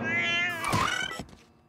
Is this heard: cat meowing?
yes